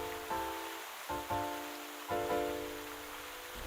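Heavy rain in a cartoon story, a steady broad hiss of downpour layered with a few recurring tonal hums that swell and fade, with no voices.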